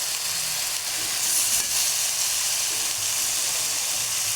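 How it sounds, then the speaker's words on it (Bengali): Chopped tomatoes hit hot oil in a pan while cooking egg curry, giving a steady, fairly loud broadband hiss of sizzling that holds evenly throughout with no talking. "এখন আমি এটাতে 2টা টমেটো কুচি দিয়ে দিলাম"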